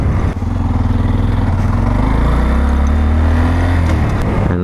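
Up close, a Honda Grom's small engine buzzes loudly and steadily as it rides, the pitch climbing gradually with acceleration before dipping near the end, with wind rush behind it.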